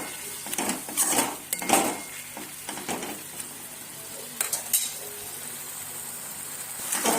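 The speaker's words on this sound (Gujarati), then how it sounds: "હવે પાલક આપણે અત્યારે એડ કર્યો છે તો થોડીક વાર એને આપણે તેલમાં શેકાવા દેશું" Spinach sautéing in oil in a pan for palak khichdi, soft sizzling under repeated clanks and scrapes of a metal spoon against the pan, busiest early then quieter.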